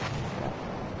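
A booming mortar shot fired in the Battlefield 1 video game on PS4 Pro, one dense, loud blast filling the whole moment without any voice over it.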